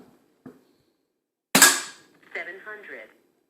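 A regulated Air Arms S200 .177 air rifle fires a single sharp, close crack with a quick tail, followed by brief mechanical clicks and handling sounds in an otherwise quiet setting.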